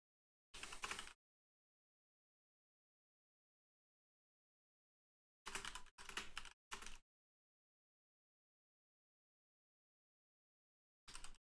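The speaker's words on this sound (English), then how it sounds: "sorry for the loud typing" Loud typing on a computer keyboard, heard as three bursts of rapid clattering keystrokes, a short one, a longer cluster of several quick runs, then a brief final flurry, separated by silence.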